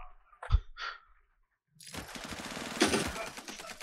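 Gunfire in the space video game Star Citizen comes as a dense, crackling burst of rapid automatic shots after a brief thump and near-silence, with agitated voices mixed in.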